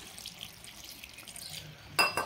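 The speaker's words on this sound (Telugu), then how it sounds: "ఇందులో ఒక అరకప్పు నీళ్లు మాత్రమే వేస్తున్నా" Half a cup of water pours into a mixie jar of sprouted seeds, a short splashing gush near the end after quiet room noise.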